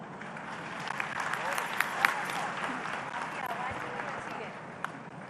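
Audience applause after a sung livelihood-mission song at a women's self-help group orientation event: steady, soft, fairly distant clapping from a crowd, continuous for several seconds with a few sharper claps standing out.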